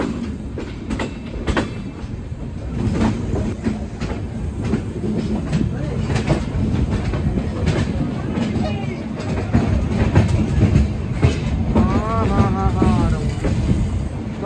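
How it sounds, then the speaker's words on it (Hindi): A passenger train takes a curve on its way through Tamil Nadu, with steady loud rumbling and clickety-clack of wheels on rails and faint metallic squeals rising near the end, heard from inside the car with voices in the background. "हमारी ट्रेन भाई खूबसूरत सा कर्व ले रही है अब।"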